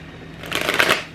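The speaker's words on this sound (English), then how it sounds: "Let me give you one more good shuffle." A short, close riffle as a deck of tarot cards is shuffled, a quick fluttering burst of card edges lasting under a second.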